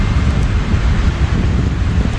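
Steady cool sea wind buffets the microphone at a beachside resort, a continuous low rumbling roar with no breaks, fairly loud and close, no talking.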